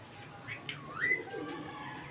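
Faint pigeon calls, a few soft rising and falling coos, come from domestic racing pigeons settling on a rooftop loft over a quiet steady background.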